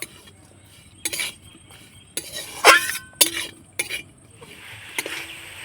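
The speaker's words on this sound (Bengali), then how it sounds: "এবার আমি নাড়াচাড়া করে পুর তৈরি করে নেবো" Coconut and jaggery filling being stirred in a pan, with sporadic clinks and scrapes of a metal utensil against the vessel, separate sharp knocks over a quiet background.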